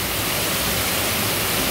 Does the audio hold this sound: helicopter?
no